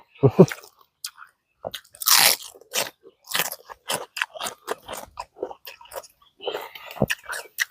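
Close-up crunchy bites and chewing of spicy Lao-style papaya salad with pickled shellfish and rice noodles: sharp crunches and wet chewing in an uneven rhythm, with no talking.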